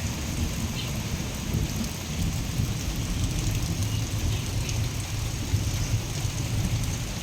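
Heavy monsoon rain pours steadily in Udupi, a dense, loud, unbroken hiss of drops on surfaces. A deep thunder rumble runs underneath, with no voices.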